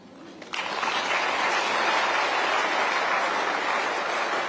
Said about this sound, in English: I am sure you can clap on this.